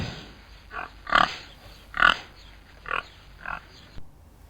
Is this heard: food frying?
no